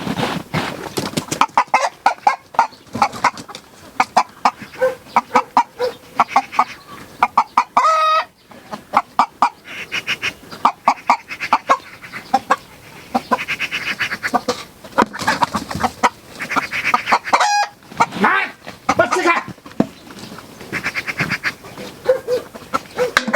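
Several chickens cluck and squawk close by in a farm setting, choppy bursts of clucking repeating throughout, with a couple of louder shrieking cries partway through.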